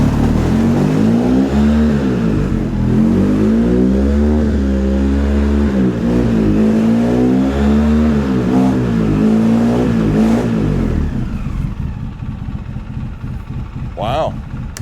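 A Polaris Sportsman 700 ATV shifted into four-wheel drive, its engine droning loud and steady with wavering revs for most of the clip before easing off near the end.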